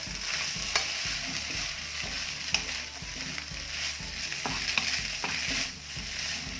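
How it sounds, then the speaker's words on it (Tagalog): Pancit noodles with bean sprouts are stirred in a frying pan, giving a close, continuous sizzle with rhythmic scraping strokes throughout; no talking. "Haluin po natin at para mapantay yung lasa ng ating niluluto."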